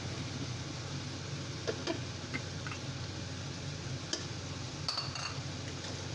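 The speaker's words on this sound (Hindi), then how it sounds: "इस स्टेज पे आके हम अपने ऑयल शामिल किया है और साथ ही हम ये टमाटर की पेस्ट शामिल करेंगे" Tomato paste goes into hot oil in a pot for a black chana curry and is stirred, giving a steady sizzle broken by a few light clinks of a spoon against the metal.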